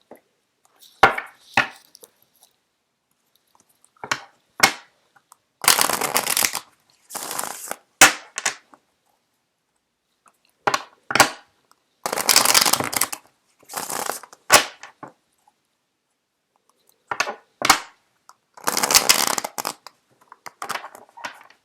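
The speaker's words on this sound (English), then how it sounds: "I'm going to shuffle out the cards for you guys." Tarot cards are shuffled in repeated quick bursts of riffling and slapping, separated by short silences, close and fairly crisp.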